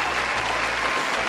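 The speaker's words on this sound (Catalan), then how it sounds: "un aplaudiment per tots plegats, vosaltres" Dense, continuous applause from a crowd on a Catalan talk show, loud and even throughout the short stretch with no voices on top.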